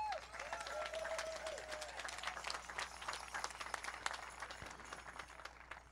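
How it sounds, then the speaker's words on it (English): Audience applause in the arena at the 2023 World Hoop Dance Championship after the Eagle Staff is carried in during the opening: steady, dense clapping held at an even level for the whole stretch, with a brief high whistle-like tone early on. "let's give him a round of applause."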